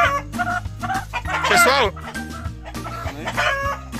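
A large fighting-breed hen weighing over three kilograms clucks and squawks close by while people talk over it, with steady low background noise underneath.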